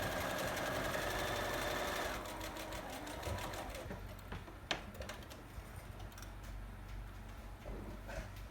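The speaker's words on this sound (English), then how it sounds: "we'll do a little bit of a back stitch. And then sew all the way down the edge" A sewing machine stitches a fabric mask, a steady rapid mechanical whir for about two seconds that then slows into quieter intermittent ticking and clicking, close by.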